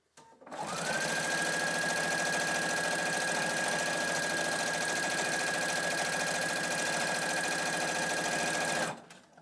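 A sewing machine stitches a quilt seam on a modern mini quilt, running at a steady, even speed in one continuous, close, loud burst that whirs with a constant mechanical hum, starting and stopping cleanly.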